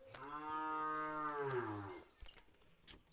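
Cattle on a farm give one long, loud, close moo that rises and then slides downward over about two seconds, followed by faint rustling outdoor sounds.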